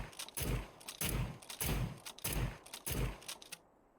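Rapid, evenly spaced shots from a rifle fired as fast as possible in the survival game SCUM, about six loud reports in under four seconds with no talk, then quiet.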